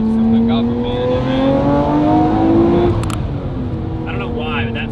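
A Nissan R34 GT-R fitted with universal valved mufflers and a free-flow downpipe accelerates hard in second gear, its engine note climbing loudly and steadily before easing off, with people talking inside the car.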